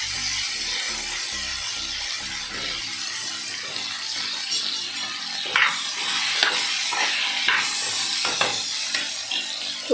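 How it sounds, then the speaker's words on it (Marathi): Cut okra (bhindi) sizzles in a hot pan for a Goan-style bhindi fry made without onion or garlic, a steady hissing bed broken by scattered crackles and pops. "आता मी नी जी केल्ली कापलेली भेंडी आसा ती घालूया. सर्वात पयली फ्राय करूया."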